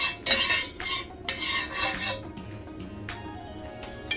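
Avocado oil being spread around a 12-inch cast iron skillet with a utensil, giving close scraping and clinking strokes in a few short bursts, with no talk.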